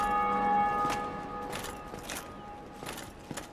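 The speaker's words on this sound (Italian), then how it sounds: "un'altra campana." A church bell tolls in the game Dark Souls Remastered, with several loud strikes ringing out and a long sustained hum decaying between them, alone with no talk.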